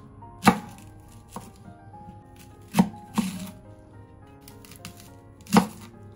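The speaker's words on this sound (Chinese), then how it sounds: "然后我们再把梨1分为4给它切开。" A kitchen knife cuts a pear into quarters on a cutting board: four distinct chops land against the board, each a sharp thud, close up and spaced a second or more apart, with faint light scrapes in between.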